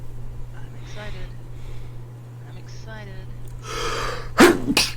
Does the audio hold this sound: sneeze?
yes